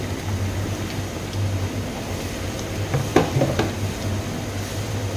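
Salted water coming to a steady boil in a cooking pot gives a continuous low bubbling hiss, with a couple of faint metallic clinks near the middle.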